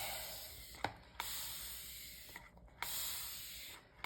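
A handheld spray bottle mists water onto cold press watercolour paper during botanical pressing work, with several short, quiet hissing bursts separated by brief pauses.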